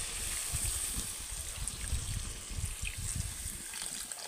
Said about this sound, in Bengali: তো এখন আমি এটাতে জল দিয়ে দেব